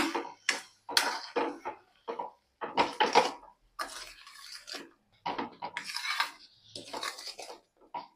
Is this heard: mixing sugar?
yes